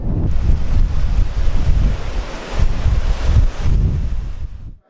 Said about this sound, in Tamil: திடீரென ஏற்பட்ட கடல் கொந்தளிப்பை அடுத்து படகுகள் தத்தளித்த நிலையில்